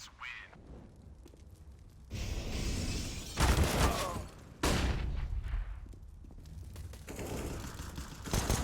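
Counter-Strike esports match gunfire: bursts of rapid automatic fire and scattered shots come in waves, loud and crackling with dense noisy texture, separated by quieter gaps of ambient game sound.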